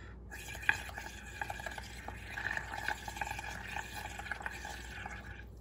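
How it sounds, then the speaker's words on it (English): Air blown through a straw into paint in a tray makes steady soft bubbling and gurgling with small popping clicks, close and fairly quiet, continuing throughout with no talk. "I'm just gonna blow until I make lots of bubbles"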